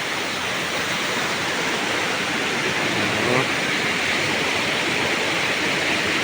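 Water pours steadily at an unnamed forest waterfall in the rainy season, swollen by heavy rain and seeping from rock crevices, a dense continuous rushing wash close by with no break.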